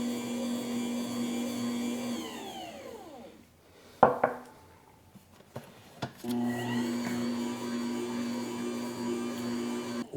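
A cheap Joydeem stand mixer kneads stiff low-hydration dough with a steady motor whine. The motor winds down and stops, a few clunks and knocks follow, then it starts up again at a constant drone.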